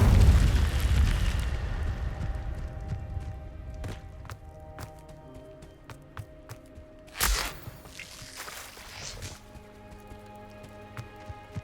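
Incendio fire spell cast in the video game Hogwarts Legacy: a loud roaring burst of flame at the start that fades out, then a second sharp fiery blast midway, with scattered clicks and quiet game ambience between and no talking.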